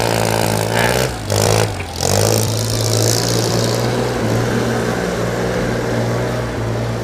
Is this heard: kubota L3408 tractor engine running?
yes